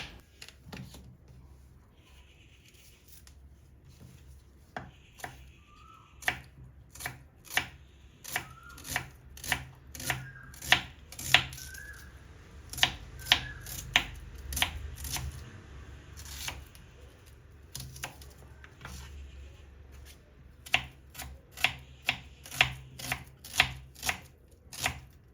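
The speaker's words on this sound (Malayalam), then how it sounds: "ഉള്ളീനെ ഒന്ന് പറ്റുന്നത്ര നേരിയതായിട്ട് മുറിച്ചിട്ട് മാറ്റി വെക്കാം." Three onions sliced as thinly as possible with a knife on a board while preparing Murgh Mughlai: a long, steady series of sharp, close chopping strokes that speeds up and keeps an even rhythm, with no talking.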